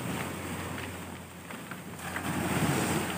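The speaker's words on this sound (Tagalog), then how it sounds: "Ah, malakas yung alon, mga master." Strong sea waves at night at a camping spot on the shore, a broad continuous wash of surf with swelling surges and gusty wind noise on the microphone, moderately loud and unbroken.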